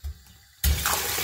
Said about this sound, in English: Let's turn the faucet on and let's go ahead and see how many bubbles we can get.